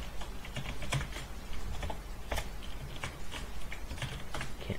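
Fast, steady clacking of a computer keyboard while coding, dense keystrokes heard up close and alone with no talking.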